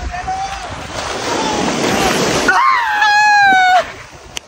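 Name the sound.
sea waves breaking on Mandarmani beach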